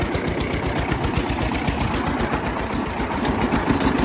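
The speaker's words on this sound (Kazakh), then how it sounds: "Жайлауға көшіп тұрмын трактормен" A tractor engine runs steadily while hauling loads to a summer mountain pasture, a close, even, rhythmic chugging throughout with no talk.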